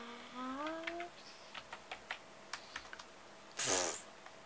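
Typing on a computer keyboard while playing Roblox: a short run of separate, fairly faint key clicks, preceded by a brief electronic tone from the game and followed by a louder burst of game sound.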